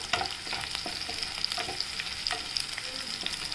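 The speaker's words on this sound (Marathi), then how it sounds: "आता आपण हे सोनेरी रंग असतोपर्यंत थोडंसं परतून घेऊया" Garlic stir-fried in a pan until golden for a cluster bean dish, a steady crackling sizzle with scraping stirs throughout, close and moderately loud, no talking.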